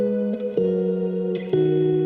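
A sustained synth or instrument tone processed with reverb in Ableton Live 11, with a few pitch steps between held notes and a smeared, echoing tail.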